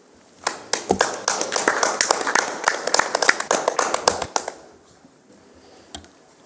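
A small audience around a school board meeting table applauds a newspaper reporter, a burst of brisk, close hand claps lasting about four seconds before thinning to a few last claps.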